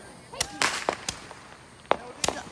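Fourth of July fireworks go off nearby in several sharp, loud cracks and pops at uneven intervals over a steady background hiss.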